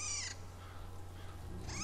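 A sunekosuri creature in a video game gives squeaky, cat-like calls that sit at the start and the end of the clip, high and fairly clear over a steady low hum, with a quiet stretch between them.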